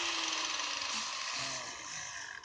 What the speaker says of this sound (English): this is called a grinder, not a sander